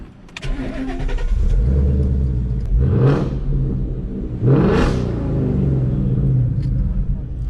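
A 2016 Ford Mustang GT Premium PP1 with a 5.0 V8 and Borla Attack exhaust starts up close and loud, settles into a deep rumbling idle, then barks through two sharp revs a couple of seconds apart.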